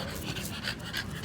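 An American bully and Pomeranian cross dog pants rapidly and rhythmically at close range, a steady breathy huffing with no voices over it.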